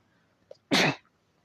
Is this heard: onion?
no